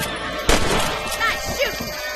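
A single loud gunshot cracks and booms in the Red Dead Redemption video game, followed by a brief echoing tail and faint game ambience.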